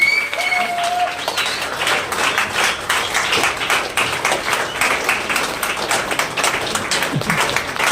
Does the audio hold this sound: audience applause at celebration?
yes